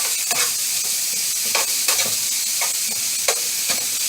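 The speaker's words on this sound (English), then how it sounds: "So I added our steak to the pan, and you just want to spread it out evenly." Steak strips fry in a pan for fajitas, giving a steady close sizzle with scattered pops and the occasional scrape of stirring, no voices.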